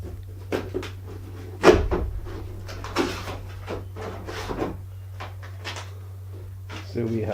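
The cardboard box of a Streetwize 8L portable pressure washer is opened nearby, with a sharp thump, scattered rustles and knocks, a steady low hum underneath and someone talking over the handling.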